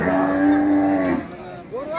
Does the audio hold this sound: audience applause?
no